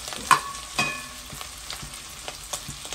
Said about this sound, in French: il tourne les zourites. Vous entendez comment il pète.